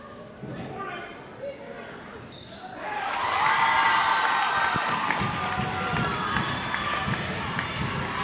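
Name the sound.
crowd cheering after a made free throw at a basketball game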